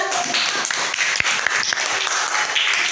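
A classroom group applauds with dense, continuous clapping from many hands, fairly loud and close, holding steady for a few seconds with a few sharper individual claps standing out.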